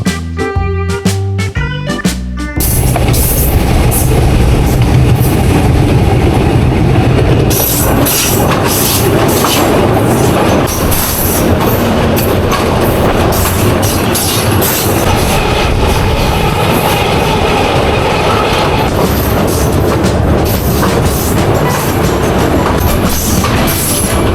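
A shuttle train between Rajbari and Kushtia crossing the British-era bridge over the Gorai river: a short choppy start gives way to a loud, sustained rumble and clatter of wheels on rails.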